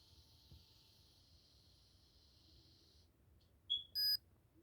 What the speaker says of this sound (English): It beeps once it's done.